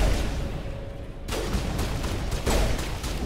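Gunfire rattles in the video game Mass Effect, fairly loud and close bursts of shots over a busy battle background, with sharp onsets around the middle and near the end.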